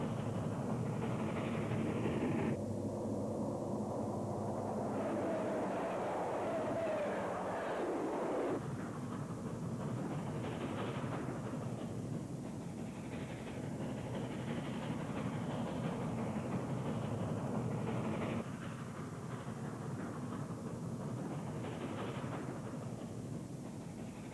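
A three-cylinder 9000 class steam locomotive hauling freight over Sherman Hill in 1952 gives a steady, heavy rumbling roar with a low mechanical drone throughout, distant-sounding and continuous without clear individual exhaust beats.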